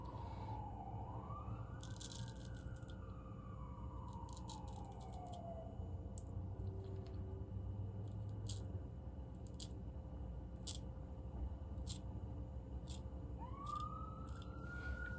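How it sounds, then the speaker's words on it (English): A distant siren wails, rising and falling slowly, fading out and returning later, over a steady low hum with scattered faint clicks. "Sorry about all the sirens, guys."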